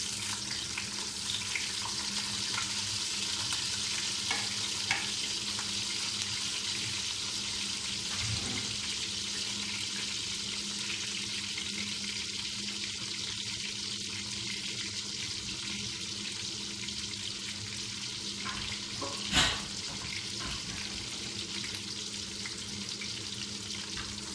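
Finely chopped onion frying in a teaspoon of hot oil gives a steady, dense sizzle that holds evenly throughout, with one brief louder clatter near the end and no talking.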